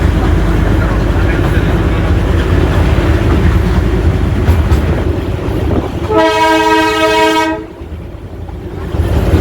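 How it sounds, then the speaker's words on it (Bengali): A steady rumble of the Darjeeling toy train runs throughout, then a loud, sustained horn blast sounds for over a second before the rumble fades lower. "বারবার হর্ন দিচ্ছে যাতে লাইনে কেউ না থাকে"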